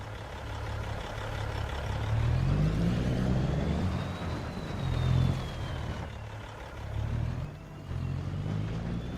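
A truck engine rumbles steadily in Farming Simulator 25, with a low drone rising and falling as it revs, close and continuous, with a faint whine above it.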